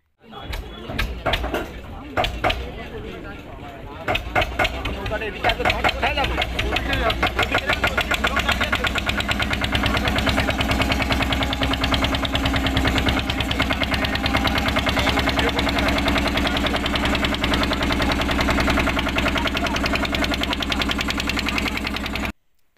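A launch boat's engine chugs and knocks near the mangroves of Mousuni island as it pulls away, starting with clanks and settling into a loud, steady close rumble, with voices in the background.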